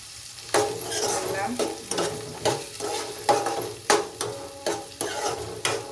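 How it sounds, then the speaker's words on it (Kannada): Chopped onions sizzle steadily in hot oil in a pan while a utensil stirs and scrapes against it in regular, sharp strokes, close and fairly loud, with no talking. "ಆಮೇಲೆ ಈರುಳ್ಳಿ ಕಟ್ ಮಾಡಿ ಇಟ್ಕೊಂಡಿದ್ದಲ್ರಿ ಅದು ಹಾಕ್ತೀನಿ"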